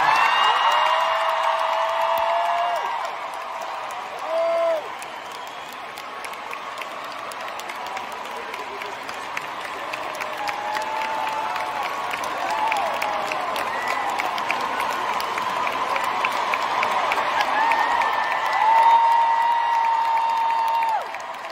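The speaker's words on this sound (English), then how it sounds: "Please join me in a round of applause for 70 years of service." A large concert crowd at Madison Square Garden applauds, cheers and whoops at a show in tribute to Queen Elizabeth II, the roar swelling and ebbing over about twenty seconds with scattered high shouts throughout.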